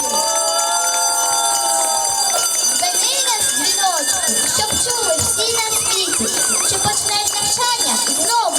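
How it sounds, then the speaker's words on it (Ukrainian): A school's first bell rings continuously at a first-day-of-school assembly, over lively crowd noise and children's voices, loud and nearby. "Лунає перший дзвоник. Голосніше дзвініть, хай всі почують."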